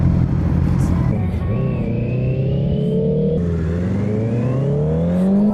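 Motorcycles, one of them a Yamaha R1, set off on a group ride toward Highway 181, engine pitch climbing as they accelerate and shift, loud and close and steady.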